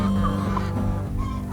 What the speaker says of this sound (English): Very healthy, shiny, well-feathered chicken, all of them.